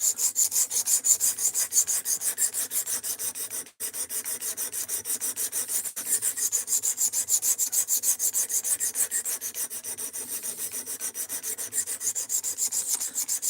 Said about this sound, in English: right now I'm trying to reprofile the edge and put a bevel back on here